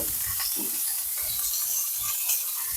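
Pork butt sears in olive oil in a hot pan, a steady loud sizzle and crackle running throughout with occasional stirring or shifting clatter; no talking.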